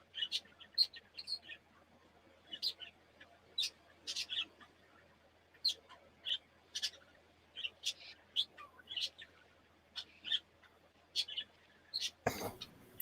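Small birds chirp and tweet outside in quick, faint repeated calls scattered steadily throughout, ending with a brief burst of noise.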